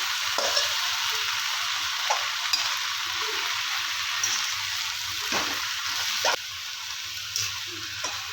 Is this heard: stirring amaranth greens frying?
yes